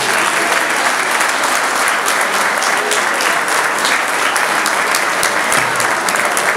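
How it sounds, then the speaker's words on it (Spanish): An audience at a Spanish sports league event breaks into loud, sustained applause, a dense steady patter of many hands clapping together throughout. "Pido para todos un muy fuerte aplauso."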